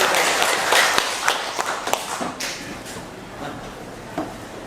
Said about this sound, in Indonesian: Tepuk tangan untuk Pak Denny ya.